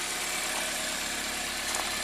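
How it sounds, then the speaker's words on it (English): A Toyota car engine idles steadily with a low, even rumble and faint vibration, continuous throughout with no voices. "So, car's running, it's idling."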